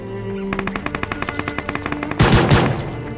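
Rapid, evenly spaced gunshots crack out in a quick burst from a pistol in the BGMI battle royale game, followed by a louder, noisier blast near the end.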